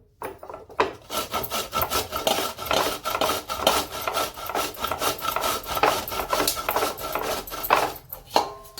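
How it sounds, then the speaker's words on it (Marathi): Bottle gourd being grated by hand on a kitchen grater, a fast run of rhythmic raspy scraping strokes, close and steady, with no talking. "आता आपण हा दुधी भोपळा किसून घेऊ।"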